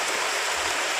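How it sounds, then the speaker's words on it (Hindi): Hail comes down during stormy weather on a safari, a dense, even hiss of pellets striking surfaces, loud and continuous without pause or voices. "ओले वापस पड़ने शुरू हो गए।"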